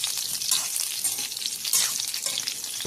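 Moringa drumsticks fry in oil over a medium flame, giving a dense, continuous sizzle and crackle with occasional stirring scrapes, close and steady throughout.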